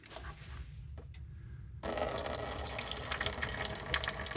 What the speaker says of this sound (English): loosen this up until coolant starts coming out